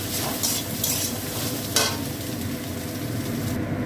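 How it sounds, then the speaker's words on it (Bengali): Soybean chunks fry in a little oil in a pan, with a steady close sizzle and several scraping stirs across the bed of crackling. "এই সোয়াবিনগুলোকে ভেজে নেবো"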